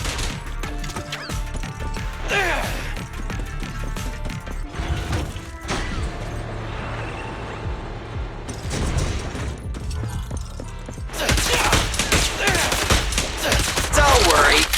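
Rapid gunfire from the video game Zenless Zone Zero, sustained bursts of shots with crashing impacts and metallic clatter that surge louder near the end, over game music.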